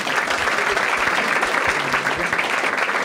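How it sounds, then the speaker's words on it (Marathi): Audience applause at a Marathi stand-up comedy crowd-work show, a dense steady clapping from a full room, sustained and close throughout. "ठीक आहे, दोघांसाठी टाळ्या वाजवा."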